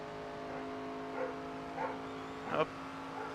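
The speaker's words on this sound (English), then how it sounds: "Oh, dog barking." A dog barks three times, spaced about half a second apart with the last loudest, somewhat distant beneath a steady hum of race-car engine drone.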